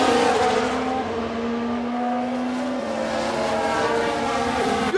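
Alfa Romeo Formula 1 race car engines in the F1 Manager 2022 racing game drone at a loud, steady high pitch, with several harmonic tones sliding slowly upward as the cars run continuously throughout.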